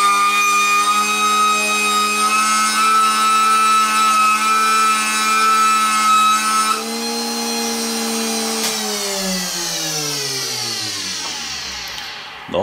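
A benchtop chamfering machine with an end mill cutting a chamfer into aluminum gives a loud, steady high-pitched whine for about seven seconds, then drops in level and spins down with a falling pitch toward the end.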